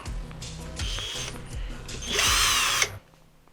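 A Procraft PA212 cordless screwdriver drives a screw with a worn bit, revving in short whirring pulses before a loud, sustained high-pitched whine that cuts off abruptly.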